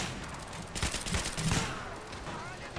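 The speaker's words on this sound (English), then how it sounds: "somebody just shot me" Gunfire in the GTA IV police mod LCPDFR, a burst of several broadband shots close together in the middle of the moment, sharp and fairly loud over a busy game-ambience background.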